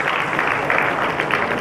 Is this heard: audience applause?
yes